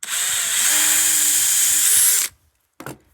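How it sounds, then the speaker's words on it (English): A power drill with a thin bit whines steadily for about two seconds with a slight pitch shift as it bores through wood for an aluminum railing post, then stops, followed by a short clatter. "I'm gonna take a thinner, smaller drill bit and I'm gonna drill all the way through"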